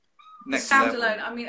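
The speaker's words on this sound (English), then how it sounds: "Speaking of noises, that's our cat in the background." A cat meows in the background while people talk over it, its cries rising clearly and repeating through a short stretch of conversation.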